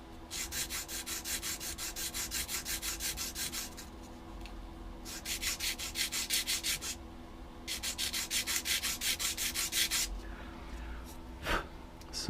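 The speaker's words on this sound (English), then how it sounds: "I basically have kind of sanded from here to here." A reed being sanded during reed making, heard as close, dry rubbing strokes in rhythmic bursts of a few seconds, separated by short pauses, with a light tap near the end.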